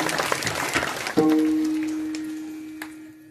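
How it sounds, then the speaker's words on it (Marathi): An audience at a village felicitation ceremony gives a short burst of clapping, which stops abruptly and gives way to a sustained tone that slowly fades. "त्यांच्याकरता देखील जोरदार टाळ्या वाजवल्या."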